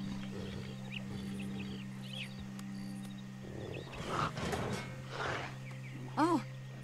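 A tiger in Red Dead Redemption 2 gives several low growls and a louder roar near the end, heard over a steady game background hum while someone talks in the middle of the stretch.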